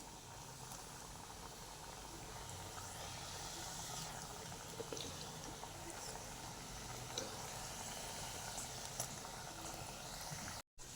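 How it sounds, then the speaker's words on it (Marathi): Steady, close crackling sizzle of jaggery fritters deep frying in hot oil, continuous throughout with scattered small pops. "आता हळूहळू टाकते तुम्ही पण तळताना काळजी घ्या"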